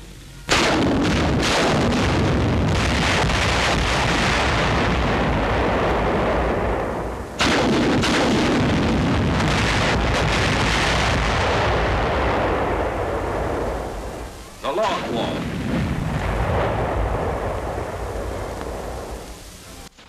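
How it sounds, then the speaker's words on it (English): Salvo of demolition rockets fired at a pillbox from a T-40 launcher mounted on an M-4 medium tank: a long roaring barrage of loud blasts and rumble, two fresh bursts starting partway through and near the end, with no talk. "10 rockets are fired at the pillbox."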